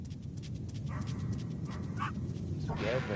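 A dog barks a few times in the Metal Gear video game, the short yaps faint and brief over a steady low game rumble.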